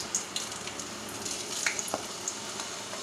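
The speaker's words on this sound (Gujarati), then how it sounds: "આપણે ફ્રેન્ચ ફ્રાયને તળી લઈએ." French fries sizzle in hot oil in a home kitchen, a steady crackling fry dotted with sharp pops and bubbling bursts, close and moderately loud without speech.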